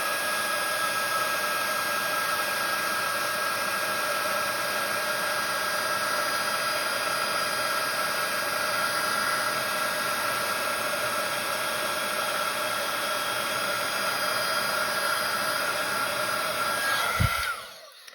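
A heat embossing tool blows a steady, loud whirring hum close by for about seventeen seconds while warming embossing on a gnome card, then cuts off with a click and the whine winds down.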